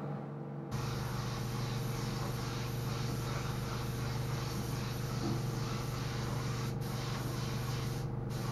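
Epoxy primer sprayed from a spray gun into the seams of a car door jamb on a PT Cruiser, a continuous close hiss that starts abruptly and holds steady throughout.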